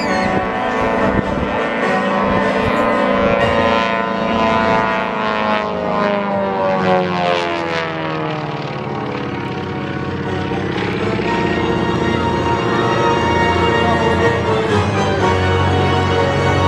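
Vintage aircraft nicknamed Magic by Moonlight arriving at an air show, a loud, steady propeller engine drone passing near, with shifting pitch sweeps as it flies by.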